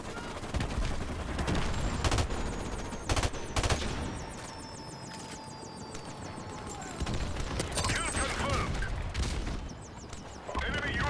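Gunfire in the video game Modern Warfare Remastered: bursts of loud automatic rifle fire and single sharp shots, spread irregularly across the stretch with brief lulls and mechanical clatter between them.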